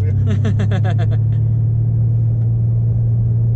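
A Porsche 911 GT2 RS with its 700-horsepower engine runs on a race circuit, heard from inside as a loud, steady low rumble, with a rapid revving flutter over the first second or so.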